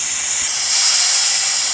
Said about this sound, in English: Thomas let out a big whoosh of steam.